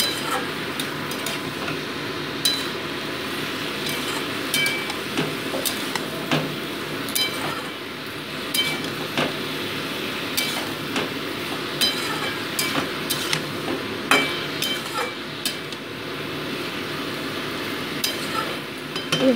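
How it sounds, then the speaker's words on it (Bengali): Seasonal vegetables for a morola fish chachchori sauté in a pan with salt, turmeric and chopped tomatoes, giving a steady low frying hiss broken by frequent light clinks and taps of a spatula against the pan. "এবার আমি নুন হলুদটা অ্যাড করে দিচ্ছি, আর অ্যাড করে দিচ্ছি কেটে রাখা টমেটো কুচিগুলো দিয়ে মোটামুটি এটাকে আরও 2 মিনিট আমি কষিয়ে নিচ্ছি"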